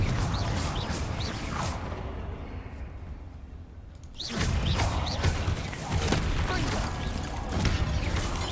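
Confringo spell blast in Hogwarts Legacy video game: crackling impacts and whooshing bursts, with a brief lull in the middle followed by a louder burst of fiery crashes and repeated smaller hits.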